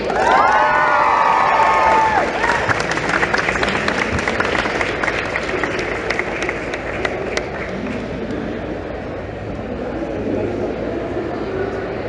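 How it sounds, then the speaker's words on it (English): A large comic convention panel crowd cheers and applauds loudly, with whoops and shouts rising over steady clapping that carries on throughout. "we need the biggest cheer and round of applause for our guests"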